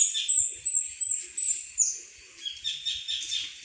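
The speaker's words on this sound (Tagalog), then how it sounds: "Pwede pa yung mga naririnig niyo, mga ibon. Sari-saring ibon." Several birds singing and chirping beside a volcanic lake in Bicol, repeated high calls and trills close and clear, with faint low knocks underneath.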